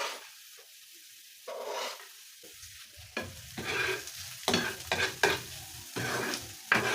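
Garlic and red onion sizzle in oil in a pan for creamy white sauce pasta, with bursts of frying hiss and a spoon stirring and scraping several times, close and moderately loud after a quiet start.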